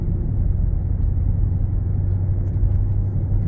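A 2019 Mercedes-Benz GLE 63 AMG on a test drive gives a steady, low engine and road rumble heard from inside the cabin, even and unbroken with no voices.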